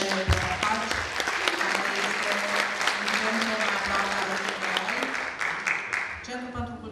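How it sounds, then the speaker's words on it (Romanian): An audience applauds a choir at an Easter concert, a dense sustained clapping that carries for several seconds and then thins out toward the end. "Așa că astăzi vă rog să-i aplaudăm."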